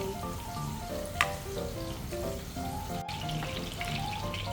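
A pork chop fries in a pan with a steady, crackling sizzle and scattered pops, fairly close and uninterrupted, with a brief sharp clatter near the start.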